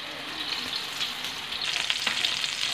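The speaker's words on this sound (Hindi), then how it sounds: "अब इसको हम उसमें रखते हैं, फ्राई कर लेंगे" Peshawari chapli kababs frying in oil on a griddle over low heat, a loud, dense crackling sizzle that holds steady and grows slightly busier toward the end, close by with no talk.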